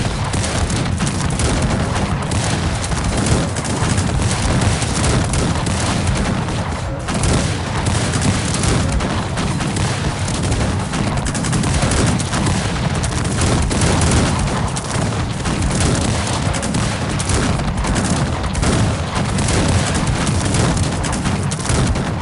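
Dense, continuous barrage of booming cannon blasts and gunfire in Cossacks 3, loud and relentless throughout with no pauses.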